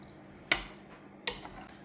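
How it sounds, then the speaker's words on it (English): A utensil strikes a claypot twice while soy sauce, wine and seasonings are stirred, two sharp clinks with short ringing tails over a quiet background. "Stir to mix the seasonings"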